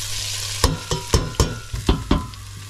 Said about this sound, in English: Chuck the garlic and onions in.